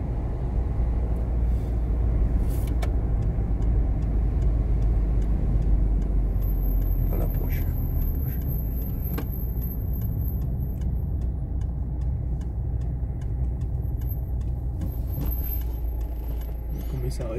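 A car drives through town during a driving test, its engine a steady low rumble with faint ticking and occasional clicks; someone speaks quietly over it.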